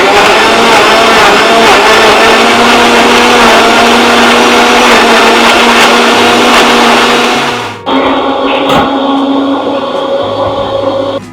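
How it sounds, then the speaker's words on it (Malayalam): A blender grinds loudly and continuously while blending an apple, carrot and pineapple drink with honey. The motor pitch shifts and drops briefly near the end before it keeps running. "നമുക്ക് തന്നെ നന്നായിട്ടൊന്ന് ബ്ലെൻഡ് ചെയ്തെടുക്കാം"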